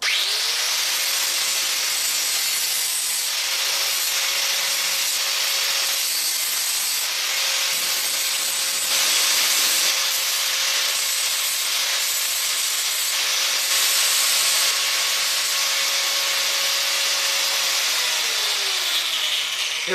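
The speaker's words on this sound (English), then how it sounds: "now I'll use an angle grinder to cut this" An angle grinder cuts through a metal tube for a homemade carbon gouging torch, giving a loud, steady, high-pitched grinding whine with a constant tone that runs close and unbroken for about twenty seconds, with no talking.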